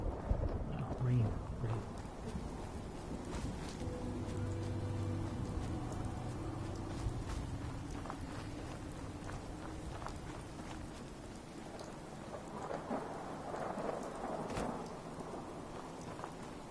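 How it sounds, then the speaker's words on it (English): Steady rain falls with low rumbles of thunder in the open-world Fallout 4 video game, a continuous hiss running throughout at moderate level, with a person talking over it. "Oh, rain."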